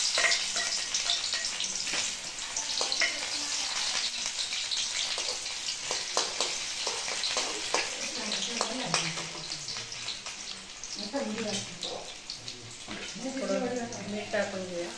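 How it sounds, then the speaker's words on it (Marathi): Sliced onion fries in oil in a pan, giving a steady crackling sizzle with occasional stirring clatter, while a voice talks intermittently in the background. "तेल टाकून कांदा घालायचा."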